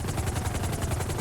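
A helicopter in a role-play video game gives a loud, close, continuous rotor chop with fast, even beats and a deep engine rumble underneath.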